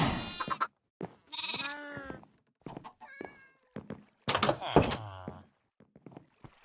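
Several synthetic cat meows from the video game Minecraft, a series of short rising and falling cries spaced apart, fairly close and clear, with no talk over them.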